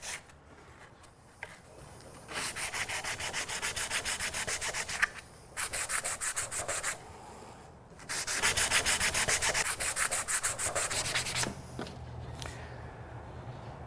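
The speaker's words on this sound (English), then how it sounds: "Once you sand it a little bit," Sanding a bent wood blank round by hand, a steady abrasive rasping in long repeated bursts separated by brief pauses, close and fairly loud with no talk.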